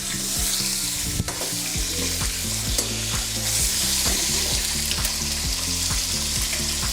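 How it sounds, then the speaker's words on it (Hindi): Meat sizzles steadily in a pot with salt, garam masala and nutmeg-mace powder while being stir-fried for chicken biryani, a loud continuous frying hiss with stirring scrapes throughout and no talk. "गोश्त की अच्छी तरह बुनाई कर लें"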